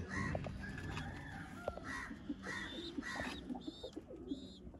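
Several pigeons coo and call around a loft, with short repeated calls and some sharper caws layered over a busy, continuous background.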